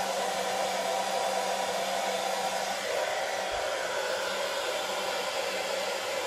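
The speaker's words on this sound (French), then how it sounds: "on entend le mode boost quand j'appuie. Le souffle est bien plus fort." Philips Thermo Protect BHD350 hair dryer running on boost mode, a steady loud broadband blowing roar with a constant motor hum, unbroken for the whole stretch with no one speaking.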